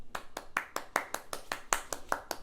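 Hands clap about a dozen times in a steady rhythm, each clap sharp and close, with brief quiet gaps between.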